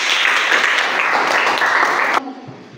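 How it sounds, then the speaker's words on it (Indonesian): A classroom full of students applauds a group presentation, dense loud clapping that holds steady for about two seconds and then cuts off abruptly into quiet room tone. "Berikan aplaus untuk kelompok 4."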